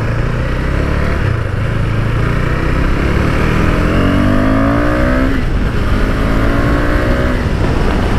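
A KTM Duke 390 motorcycle engine revs under throttle, close and loud, its pitch climbing in repeated sweeping pulls with no talking.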